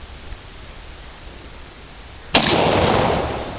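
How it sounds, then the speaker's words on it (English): An AK-47 short barrel rifle fires a single sharp, loud report at an outdoor shooting range day, with a long ringing decay after the blast. "AK-47 short barrel rifle."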